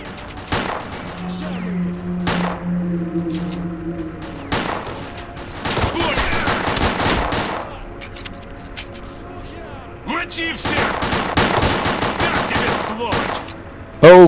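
Gunfire in the shooter game Stalker: Clear Sky, with several separate bursts of rapid automatic fire and single shots spaced across the stretch, loud against a quiet background with faint tones between volleys.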